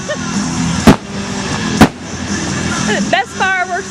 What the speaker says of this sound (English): Best fireworks I've ever seen.